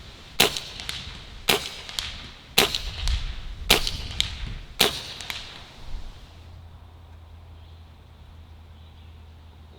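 Five crisp .22 airgun shots with 21.9 grain heavy pellets fire in a steady rhythm about a second apart, each a sharp crack with quick impact ticks, followed by quiet hum.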